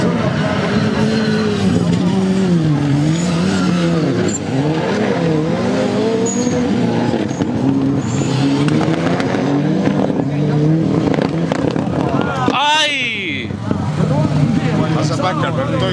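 A rallycross race car drives on the track, its engine roaring continuously with pitch rising and falling through gear changes, then a brief sharp tire squeal near the end, with a commentator talking over it throughout.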